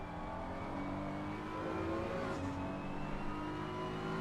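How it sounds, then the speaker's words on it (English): Maserati race car engine in Assetto Corsa Competizione at the Bathurst circuit, a steady loud engine drone with rising and falling harmonic tones as it revs, running continuously without speech. "Oh yeah, the Maserati sounds awesome."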